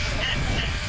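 A single sheep bleats loudly and close on shearing day at a farm, a short wavering cry over a brief moment.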